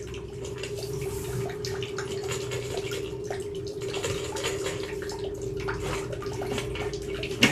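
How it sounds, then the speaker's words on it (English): Water trickling through a household drain line after toilet flushes and a bathtub run, a steady gurgling drip and flow with a constant low hum underneath, near and continuous. "We still probably got a little bit of water still trickling off here."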